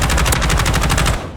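Rapid automatic gunfire in the video game Warzone, a loud continuous burst of tightly spaced shots lasting over a second before cutting off into a brief fading tail.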